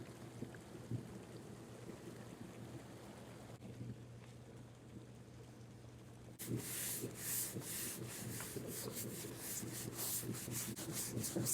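A cloth with surface cleaner rubs over a hot tub shell, starting as a soft, steady scrub against a low background hum and turning into louder, rhythmic swishing strokes partway through.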